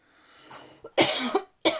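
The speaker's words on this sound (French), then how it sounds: "La toux" A person coughs indoors: a soft breathy lead-in, then two sharp, close cough bursts separated by a brief pause, with no talk.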